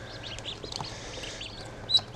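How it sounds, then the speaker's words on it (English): Young ducklings in a hatcher, giving a scatter of soft, high peeps and chirps at close range, with one sharper peep near the end. "Oh, little ducks."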